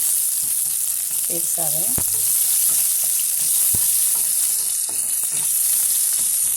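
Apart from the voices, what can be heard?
onion, urad dal and dried chillies frying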